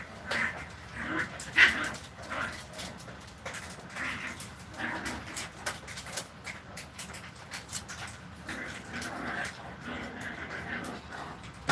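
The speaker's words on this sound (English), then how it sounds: "You can hear the puppies playing and romping in there." Eight-week-old Maltese puppies play in a pen, giving soft whimpers, yips and scuffling sounds that come and go continuously, faint and somewhat distant in a home kitchen setting.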